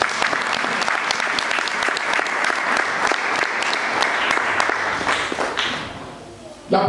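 A church congregation applauds together in steady, dense clapping that fills the space for most of the moment, then thins and fades near the end before a brief burst.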